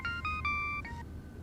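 A phone ringtone plays a short melodic electronic phrase of clear tones in a few quick steps, then falls silent after about a second, moderately loud over a quiet room background with no talking.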